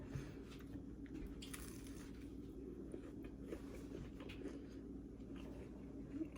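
Close, quiet biting and crunchy, squishy chewing of a fried Oreo, soft mouth sounds repeating over several seconds with no talking.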